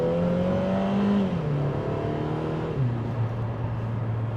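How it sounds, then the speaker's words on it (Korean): A Lotus Emira 2.0 First Edition with an AMG four-cylinder engine drones steadily while driving, its tone rising and shifting through the revs as it runs on continuously and fairly loud, with no voices. "개인적으로 엔진의 음색은 V6 버전보다는 조금 아쉬운 것 같습니다."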